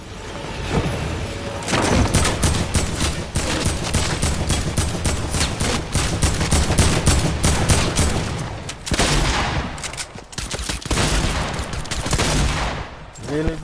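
Dense, continuous bursts of gunfire from the video game Fortnite, loud and close, with rapid shots stacking into near-constant firing and a short lull before the shooting resumes.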